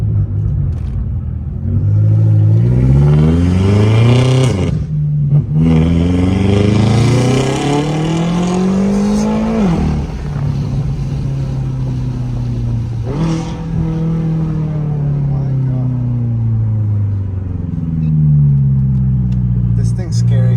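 A tuned FBO BMW M6 engine revs hard and pulls through repeated rising gear sweeps, loud and close, with brief drops between shifts and someone talking over it.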